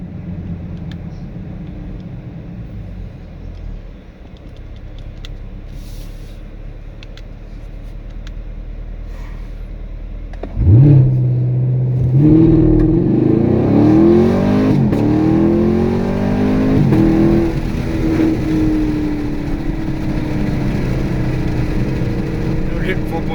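A 2016-2019 Chevrolet Camaro SS automatic idles with a low rumble, then launches hard using launch control, its V8 roaring loudly and climbing through rising, shifting revs as it pulls away for over ten seconds.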